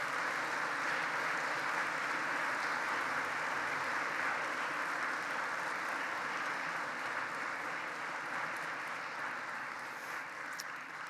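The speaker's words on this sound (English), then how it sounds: "One more round of applause." A high school convocation audience gives another round of applause, a dense, sustained roar of many hands clapping at a steady level throughout, with no distinct individual claps standing out.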